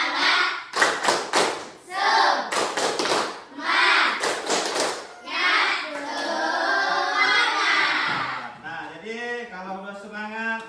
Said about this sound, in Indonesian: mari kita tepuk semangat